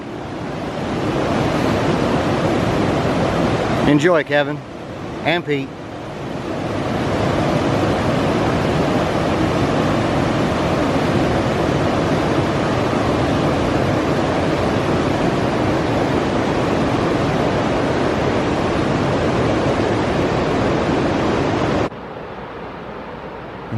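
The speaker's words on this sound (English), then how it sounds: "Here's just a little sounds of the French Broad River." The French Broad River near Hot Springs on the Appalachian Trail, a loud continuous rush of flowing water heard close up, briefly broken by a short voice and fumbling partway through, then dropping in level near the end.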